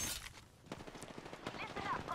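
Gunfire in the video game Apex Legends rattles in rapid bursts over a busy, noisy mix, with a voice talking through it.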